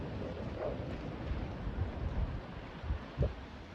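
Strong wind blows outside beside a barn with a storm-damaged roof, a steady low rumble of buffeting with a few slightly stronger gusts and no voices.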